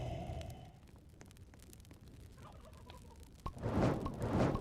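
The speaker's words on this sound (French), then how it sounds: "j'entends des petites poules" Small chickens clucking in a Roblox game, a few soft bird calls among rustling game ambience, with louder warbling clucks near the end.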